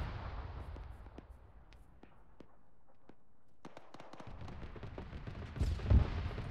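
Scattered gunshots crack in the Arma 3 military shooter, some single and some in quick bursts, sounding fairly distant over a steady background rumble, with no talking.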